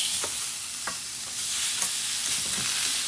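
Chops sear in a hot pan while being smoked in red wine, giving a dense hiss with several sharp utensil scrapes and clicks as the pieces are turned over.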